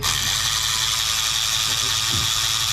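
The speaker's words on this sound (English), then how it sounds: "So we're pulling the 5 valve cover bolts." Ratchet clicking steadily as it backs out valve cover bolts on a 6.7L Ford F450 diesel, a continuous close, loud mechanical ticking with no talk over it.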